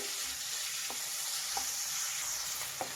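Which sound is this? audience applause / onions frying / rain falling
onions frying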